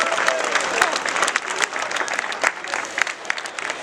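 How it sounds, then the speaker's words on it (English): Crowd applause for firefighters at a Werribee CFA open day, dense steady clapping with scattered louder claps, continuous throughout. "Give them a big round of applause."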